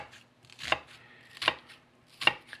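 Three sharp knife chops through diced onion on a cutting board, spaced roughly evenly and close up, with a quiet pause between each strike.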